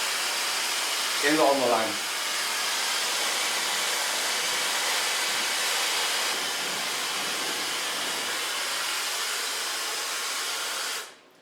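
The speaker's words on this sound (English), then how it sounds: "Start blow drying with a large brush because I don't want any volume" A hair dryer blows steadily while a large round brush works through hair during a cut-and-colour session, a continuous close airy roar lasting nearly the whole stretch before cutting off; a short voice is heard near the start.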